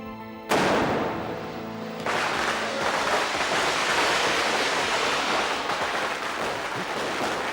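Firecrackers burst with a sudden loud crack, then a dense, continuous crackling roar that stays loud and steady to the end.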